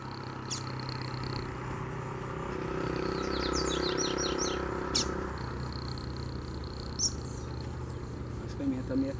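Two loose double-collared seedeaters (coleiros) sing outdoors in quick chirping phrases with a rapid trill, moderately close, over a constant low hum and some background noise.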